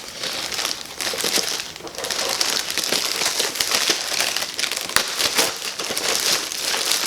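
Crinkly packaging of a red velvet transfer-proof lipstick set being opened by hand, a dense, continuous crackle and rustle that runs for several seconds up close, with sharper snaps scattered through and no talking.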